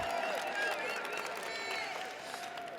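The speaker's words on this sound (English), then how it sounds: "So can we give a big warm round of applause" A crowd at a poetry night gives faint, distant applause mixed with murmuring and cheering voices.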